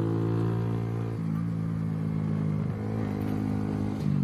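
A Lexmoto Hunter 50cc motorcycle fitted with an aftermarket exhaust, ridden along at a steady buzzing drone that dips briefly as the throttle eases, close and continuous with no speech.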